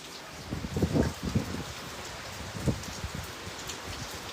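Heavy rain in Manila, a dense steady patter on surfaces with a few louder drumming bursts, close and continuous, and nobody talking.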